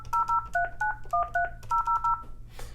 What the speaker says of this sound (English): Let's dial our example number.